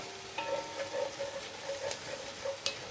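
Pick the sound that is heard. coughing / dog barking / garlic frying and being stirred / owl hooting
garlic frying and being stirred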